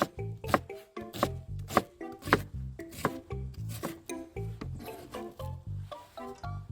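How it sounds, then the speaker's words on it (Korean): A knife chops onion on a board for a tomato pasta cooked on a pot-lid griddle, a rapid, steady run of sharp, close wooden knocks with no talking. "그다음에 양파를 다져주세요."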